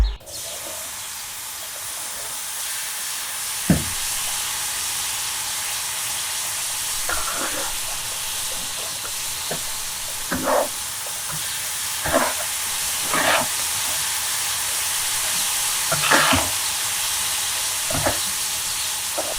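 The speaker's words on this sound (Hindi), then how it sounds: "घी आधा किलो, 7 से 8 दाने छोटी इलायची के हल्की आंच पर रंग बदलने तक पकाएं" Half a kilo of ghee with seven or eight green cardamom pods frying gently over a low flame, a steady soft sizzle and hiss with occasional small pops and crackles throughout.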